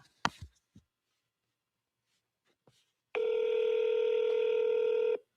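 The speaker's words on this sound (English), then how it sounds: "Please state your name after the tone, and Google Voice will try to connect you." Google Voice call-screening tone: a steady electronic beep of about two seconds following a brief click and near-silence, played loudly and cleanly over a phone line.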